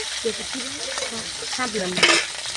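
Big prawns sizzle and fry in a pan while being stirred for a prawn curry with shapla (water lily) stems, with steady hissing and scraping stir sounds throughout and a louder burst of sizzle near the end.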